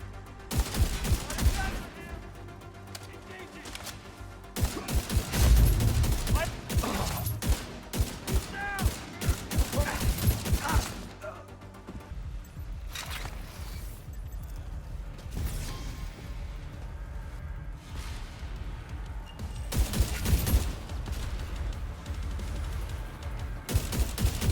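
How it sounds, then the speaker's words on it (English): A rogue assault turret fires in The Division 2, with bursts of rapid gunfire, heavy impacts and mechanical clatter mixed with game effects, loud and irregular throughout, occasionally under brief voice lines. "Rogue assault turret detected."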